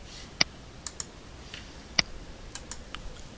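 Sparse keystrokes on a computer keyboard while entering an equation into a Microsoft Excel spreadsheet, a few isolated clicks spaced over a few seconds, faint and close, with no talking.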